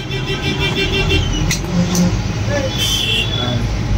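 City bus driving, heard from inside with a window open: a steady low engine and road rumble runs throughout, with light rattles and clinks, and people talking.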